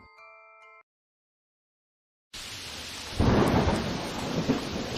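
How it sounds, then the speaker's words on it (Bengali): A thunderstorm on a rainy evening: a sudden loud clap of thunder breaks in, followed by steady heavy rain and rumbling that builds and continues close and full, with no voices. "ঠিকই বৃষ্টি শুরু হয়ে গেল"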